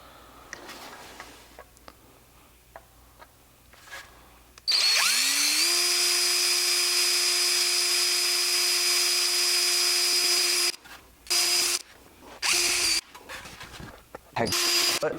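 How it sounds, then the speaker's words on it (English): A power drill bores pilot holes in a Miata fender flare: a long, loud, steady whine runs close by, then breaks into several short bursts as the trigger is pulsed, after quiet handling noises at the start. "you're gonna need to drill out some pilot holes for your fender flare"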